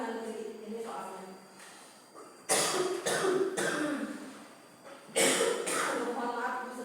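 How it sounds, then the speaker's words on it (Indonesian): A woman coughs in a classroom setting, a few loud, sharp bursts around the middle and again near the end, with broadband noisy blasts standing out between stretches of quieter speech-like murmur. "Mohon maaf, ibu sedang batuk."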